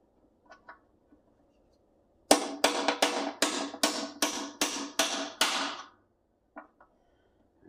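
A starter punch struck by a hammer to drive out a pin chamfered on a grinder: eight sharp, ringing metallic blows in a steady rhythm, close and loud, with a few faint clinks before and after.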